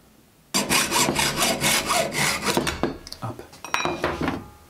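Hand filing on an aluminium piece, rounding its edge with a file: steady rhythmic rasping strokes, close and loud, continuing for several seconds, then a few lighter, scattered scrapes toward the end.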